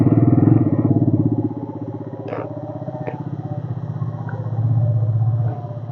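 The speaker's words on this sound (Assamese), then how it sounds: "এতিয়া বাইকখন কুল ষ্টাৰ্ট দিওঁ" A motorcycle, cold-started and left to idle in neutral, runs with a close, rapid engine putter that pulses evenly throughout, loudest at first, then easing and swelling again near the end.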